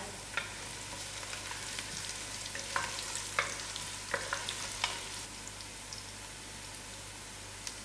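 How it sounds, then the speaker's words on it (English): Biryani spice mixture fries in a pot with a steady crackling sizzle, scattered sharp pops and a few stirring knocks, close and even throughout, with no talking. "And in goes all my biryani mixtures to come to a little fry."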